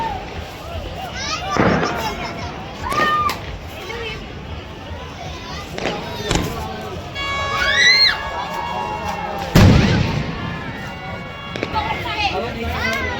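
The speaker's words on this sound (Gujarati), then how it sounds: "કેટલા ફટાકડા ફૂટે જુઓ" Firecrackers bursting from a rooftop during the Uttarayan kite festival: several sharp cracks and a loud bang stand out over a crowd of children shouting and cheering, with people talking nearby.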